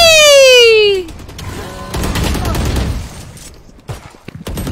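In a tactical shooting video game, sharp gunshot bursts crack out after a descending electronic tone, then scattered shots and impacts follow amid busy game effects, close and loud, with a player talking over it.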